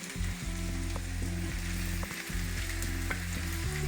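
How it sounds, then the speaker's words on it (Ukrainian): Diced ham frying with browned onions in a pan gives a dense, loud, continuous sizzle up close, with occasional stirring knocks and no voices. "шинка буде ще вжарюватися разом з цибулькою втушувати"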